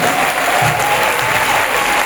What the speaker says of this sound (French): Il faut applaudir un peu.